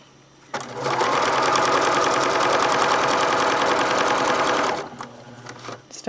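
A sewing machine stitches binding onto a quilt with a 1/4 inch seam, running in one steady fast whirring burst of about four seconds, close and loud, then stopping with faint handling sounds.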